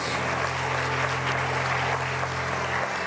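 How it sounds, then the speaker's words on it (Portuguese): A church congregation claps steadily together, a dense continuous patter of applause over a low sustained organ or keyboard hum. "Dê uma salva de palmas ao Senhor."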